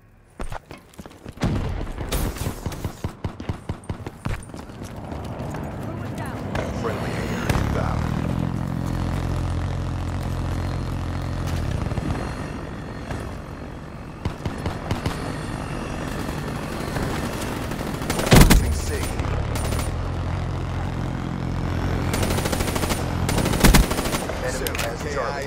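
A Wraith killstreak aircraft in Call of Duty Black Ops III drones and whirs steadily while loud bursts of machine-gun fire rattle repeatedly, punctuated by a few heavy impacts.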